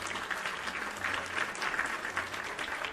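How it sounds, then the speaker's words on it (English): A crowd applauds in a dense, continuous wash of clapping that swells and eases slightly, heard at a moderate distance and fairly soft, with no speech over it. "Let's give Grim a round of applause for becoming a official student."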